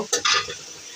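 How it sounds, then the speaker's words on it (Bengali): Two eggs hit a hot frying pan over already-fried ingredients for bhindi bhaji, a quick close splash and burst of sizzle that fades within a second. "এখন ডিম দিয়ে দেব।"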